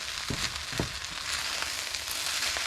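Spring onion sizzles with fried rice in a hot pan, a steady crackling fry with a few soft stirring scrapes, close and moderately loud.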